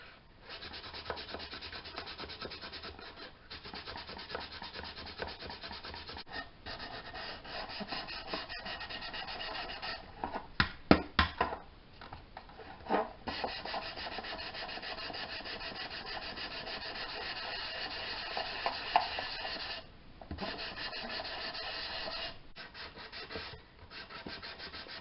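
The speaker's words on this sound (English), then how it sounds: "So now I'm just going to take some light sandpaper and sand it" Light sandpaper rubs by hand over a wooden toy truck in a steady, continuous scratchy hiss with brief pauses between strokes, close and moderately quiet throughout.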